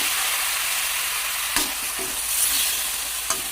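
Sliced chayote stir-frying in a pan for chop suey, a steady broadband sizzle throughout with a couple of sharp clinks of a utensil against the pan; no talking.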